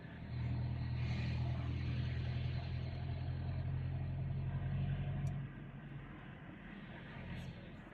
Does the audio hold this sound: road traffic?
yes